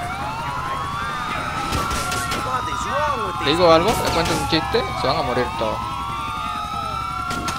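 Several police car sirens wailing in the video game GTA IV, overlapping rising and falling tones that stay loud throughout while someone talks over them.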